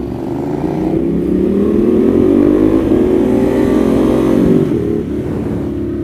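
A motorcycle with a Termignoni race exhaust revs loudly and close, rising in pitch and then easing back, with a rough, throaty exhaust tone.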